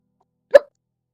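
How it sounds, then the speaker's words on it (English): A single short hiccup from a person working at a computer, close and isolated against silence. "always having hiccups no matter the video I'm making"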